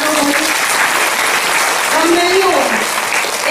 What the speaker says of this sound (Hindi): तो अपने लिए तो ताली बजा लो